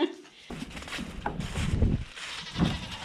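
Goats bleating in a short, wavering call amid outdoor rustling and shuffling, with a few other animal sounds close by.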